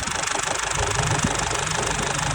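Steady idle of a Chevrolet Colorado pickup engine, an even mid-pitched rumble heard close and alone for a couple of seconds.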